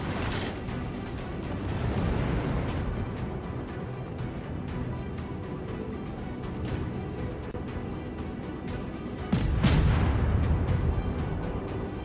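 Cruiser main-battery gunfire in the naval combat game World of Warships, an American cruiser Chester on the Island map, heard as a broad rumbling barrage with repeated booming shots and a louder burst near the end.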